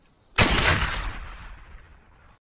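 Gunfire: a single sharp, loud blast that cuts in suddenly, then a long decaying rumble and echo tailing off over about two seconds, with no voices.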